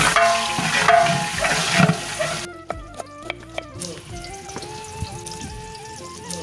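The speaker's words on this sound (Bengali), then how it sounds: "আর পাশে পেঁয়াজ ভাজার জন্য দিয়ে দিল রিফাইন তেলে।" Onions frying in refined oil for a biryani, a dense sizzle for the first two and a half seconds, then a quieter crackle broken by sharp clinks and scrapes.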